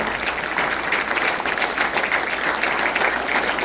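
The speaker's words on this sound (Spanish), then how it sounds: "Le podemos dar otro aplauso más fuerte al Señor, hermanos." A church congregation applauds loudly and steadily throughout, a dense, continuous wash of many hands clapping together with no pauses.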